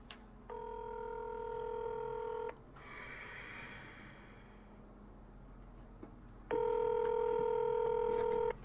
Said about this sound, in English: Answer the phone, Delilah.